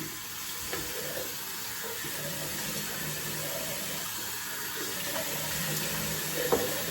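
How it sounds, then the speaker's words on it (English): Tap water runs steadily into a sink while shaving gear is rinsed off, a constant close splashing flow with a few small knocks and no talk. "Let's go ahead and rinse off everything."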